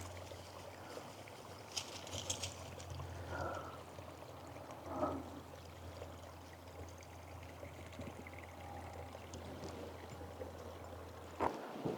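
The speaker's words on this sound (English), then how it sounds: "There's running water over here." A small brook runs over little stones in a remote mountain canyon, producing a faint, continuous trickle and gurgle with a few brief splashy swells and a sharp knock near the end.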